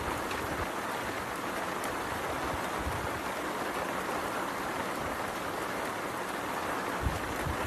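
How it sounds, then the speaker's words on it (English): Hail pounds down on a golf course in a heavy, continuous roar of ice hitting the ground, loud and steady throughout with no voices. "It was a massive hailstorm, and you were still insistent on playing out the hole."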